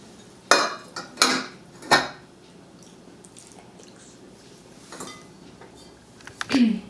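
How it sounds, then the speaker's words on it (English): A spoon clinks against a bowl while milk and sugar are stirred into yeast-raised Yesa cake batter: three sharp, close knocks in quick succession, then near quiet, and one softer scrape and clatter at the end. "So now I'm going to stir in 2 cups of milk, 1 cup of sugar"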